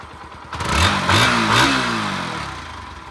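A Bajaj NS 160 ABS motorcycle engine revs up twice from idle, rising and falling in pitch, then settles back to a steady, close idle.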